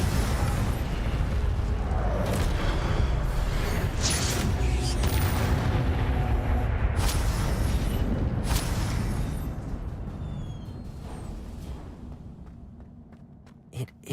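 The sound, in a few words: Incendio fire spell cast in video game Hogwarts Legacy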